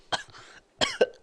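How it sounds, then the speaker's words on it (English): Two short, dry coughs from one person, close to the mic, separated by a brief pause, the second a double hack with a throaty catch. "I think I got a kennel cough."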